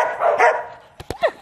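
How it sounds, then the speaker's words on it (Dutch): A dog gives a couple of sharp, close barks and yips at the end, after a short stretch of whining and vocal noise. "deze hond doet altijd vuur"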